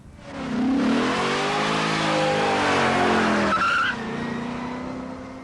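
A 1990 Chevrolet Corvette ZR1 sports car drives hard, its engine note sweeping up through gears with a squeal of tires, loud and close, then easing off as it passes.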